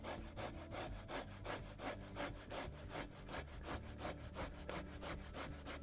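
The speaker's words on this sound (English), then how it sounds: "Use the trusty tasty microplane" An apple is rubbed against a microplane grater for applesauce, producing a steady rhythmic rasping of quick, even strokes close up with no pauses.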